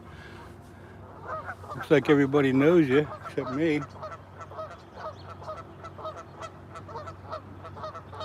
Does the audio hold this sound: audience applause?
no